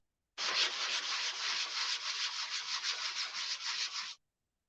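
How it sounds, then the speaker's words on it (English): Fine 220-grit sanding block rubbed over painted laser-cut wood, a close, brisk rhythmic scratching of quick back-and-forth strokes lasting about four seconds, alone against silence. "this is just a sanding block. It's actually like a 220, so it's just very fine sander"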